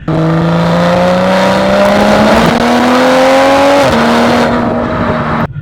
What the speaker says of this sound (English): once you switch to sports mode and basically go wide open throttle, post 3500 RPM, the car gets really loud.